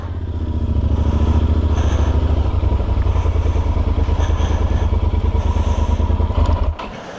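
A motorcycle engine rumbles loudly up close, a steady throbbing idle that cuts off near the end.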